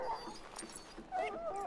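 A dog in the video game Dragon Age: Origins whimpers with several short, high, whining yelps, close and fairly soft, with no talking.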